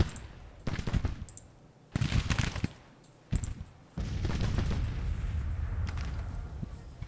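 Civil War battle game: bursts of musket volleys and booming artillery come in several loud clusters, ending in sustained rattling fire.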